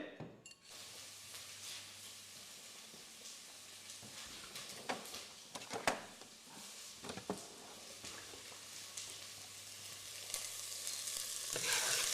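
Onions frying in a pan alongside sweet potato: a soft, low sizzle with scattered clicks and scrapes of stirring, fairly quiet and close, with no talk during it.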